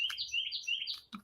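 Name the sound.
bird chirping loudly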